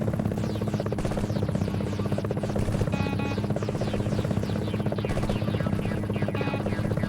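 An enemy helicopter in the Gunship video game drones loudly and continuously, its rotor beating in a dense, even chop with a buzzing hum that holds steady throughout.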